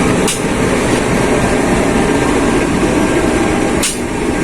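KA Kertanegara train, with K3 coaches from 2016, rolling off from a station in a steady continuous rumble and rattle, heard from onboard, with two brief sharp bursts near the start and end.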